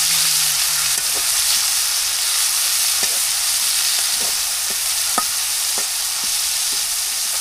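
Chopped onions and chillies frying in a village kitchen in Bangladesh, a loud constant sizzle broken by scattered taps and scrapes of a stirring spoon against the pan.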